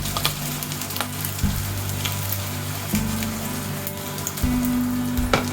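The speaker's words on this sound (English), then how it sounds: "the second part of cooking, now it's been boiled, is to fry it off until it's golden brown" Boiled belly pork fries in oil until golden brown, a steady close sizzle and crackle with scattered pops and a low hum underneath, continuous throughout.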